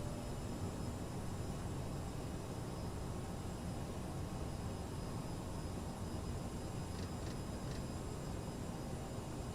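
The Aerosoft CRJ's jet engines in MSFS 2020 give off a steady, dense broadband roar that holds at an even level throughout, with no one speaking.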